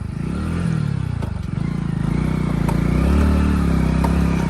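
A motorcycle engine drones steadily at close range, its low rumble mixed with rattles and clatter as it rolls over a rough, bumpy road.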